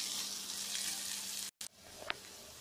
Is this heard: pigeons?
no